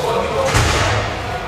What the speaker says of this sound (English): The banging door.